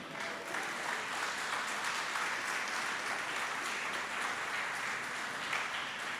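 A church congregation applauds steadily during a worship service, the clapping continuous and fairly distant with no voice standing out.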